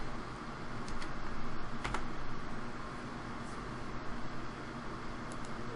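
Keystrokes on a computer keyboard tapped out in a short burst while using Windows 8 search, faint clicks over a steady background hiss.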